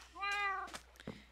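A single drawn-out meow from a house cat, close and clear, rising then falling in pitch, followed by a short softer chirp and faint rustling.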